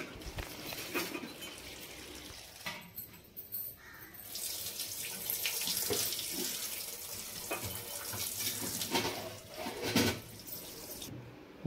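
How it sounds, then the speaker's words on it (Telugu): Raw chicken is washed under a running tap, the water splashing and gurgling steadily into a sink with shifting splashes as the meat is handled, close and fairly quiet. "మనం ముందుగా తీసి పెట్టుకున్న 1 kg చికెన్లో ఒక 2 times వాటర్ పోసి చాలా క్లీన్గా కడుక్కోవాలండి"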